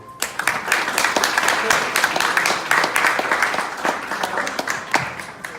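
Audience applause at the grand re-opening of a residential community, a steady, lively wash of many hands clapping with sharp individual claps standing out throughout, with some voices mixed in.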